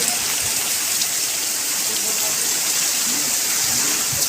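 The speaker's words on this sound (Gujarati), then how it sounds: "બહુ અતિશય અતિશય ભારી વરસાદ છે" Very heavy rain pours down in Kolki near Upleta, a dense, continuous hiss that stays loud and steady throughout. Faint voices can be heard beneath the downpour.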